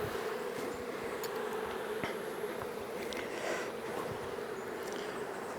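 Honey bees swarm around a nuc hive during an inspection, making a steady, close, even buzzing drone with no talk over it.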